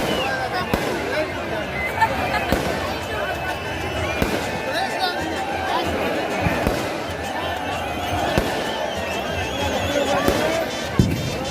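Devotees set off firecrackers at Sabarimala amid chanting: scattered sharp pops and bangs sound over a dense, continuous crowd roar and voices, none standing far above the din.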